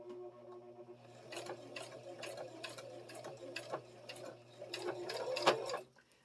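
A sewing machine stitches the hem of a sweatshirt being made into a coat, giving a quiet, close run of rhythmic mechanical clicks and whirring that speeds into a busier burst before stopping abruptly near the end.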